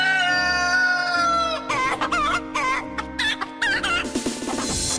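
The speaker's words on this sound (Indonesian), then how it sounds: "Enggak, tadi suara ayam." Chicken crowing loudly close by, followed by a run of sharp, choppy clucks and squawks, with a steady low hum underneath and no talking.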